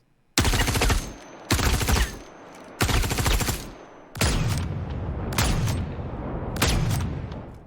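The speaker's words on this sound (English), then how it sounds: "let's listen to some of our weapon sounds in action." Weapon fire from the video game Star Citizen comes in several loud, close bursts of rapid automatic shots, each cut off by brief pauses, the later bursts longer and more sustained with a booming tail.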